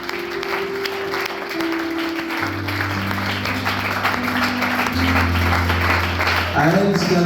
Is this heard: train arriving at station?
no